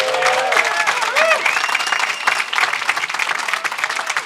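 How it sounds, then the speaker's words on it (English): Applause from the audience at a New York bill-signing ceremony for child online safety laws, dense steady clapping with some crowd voices and a brief whistle-like tone early on, fairly loud throughout. "let's give them a round of applause"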